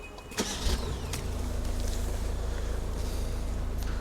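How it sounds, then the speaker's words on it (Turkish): A 2024 Toyota Proace City engine started by push button: a brief click and starter whirr, then the engine catches and settles into a steady, even idle heard from inside the cabin. "Şöyle hemen bir marşa basalım."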